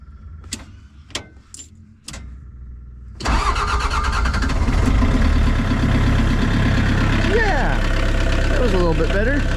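A diesel tractor engine, turned over after its glow plugs have been heated: a few separate clicks and short cranking bursts, then the engine catches and settles into a loud, steady, rattling idle, with a voice talking briefly over it.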